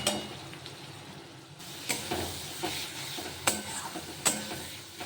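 Ground spices fry in a thick gravy for chicken biryani, giving a steady close sizzle and hiss broken by several distinct spoon scrapes and taps against the pan.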